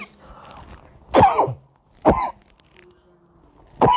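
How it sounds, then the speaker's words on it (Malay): A person coughs and clears their throat in a few sharp, separate bursts in a quiet indoor room, with short pauses between them and no talking. "Maaf, terbatuk."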